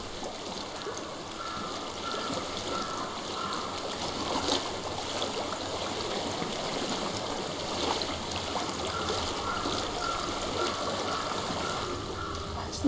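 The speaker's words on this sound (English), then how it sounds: "I hear water." A flowing stream in Hellblade: Senua's Sacrifice, a steady, moderately loud babble and trickle of running water that continues evenly throughout with no voices over it.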